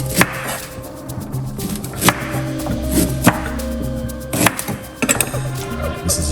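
Fresh ginger chopped with a knife on a cutting board, sharp close knocks spaced irregularly over a faint kitchen background, with no talking.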